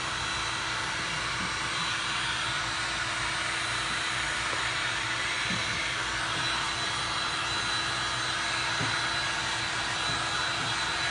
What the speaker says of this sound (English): let's get it dry with our handy dandy Seek One dryer, heat gun, whatever